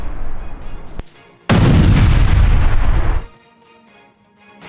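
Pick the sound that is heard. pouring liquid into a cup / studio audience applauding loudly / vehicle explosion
vehicle explosion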